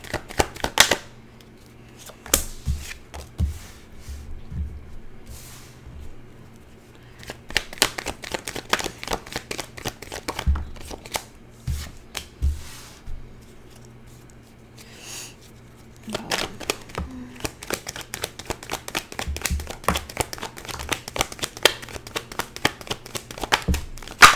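Tarot cards shuffled by hand, close rapid bursts of riffling and slapping card noise in irregular clusters with short pauses between, no talk.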